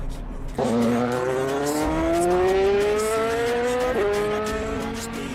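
A street-racing car speeds along a public road, its engine note rising steadily in a long, loud revving sweep that briefly dips and climbs again, close and continuous.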